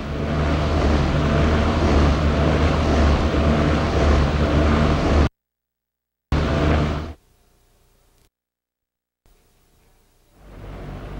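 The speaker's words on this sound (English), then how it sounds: "the effect of a high-speed wind with a high-frequency pulsing action is demonstrated" Rushing high-speed wind with a fast pulsing action, produced in a bridge-collapse experiment: a loud, dense roar holds for about five seconds, stops abruptly, returns briefly, and drops to near silence before a fainter hiss creeps back in.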